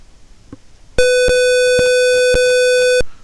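A single loud, steady beep from an electronic motor-monitoring relay sounds for about two seconds after a brief moment of near quiet.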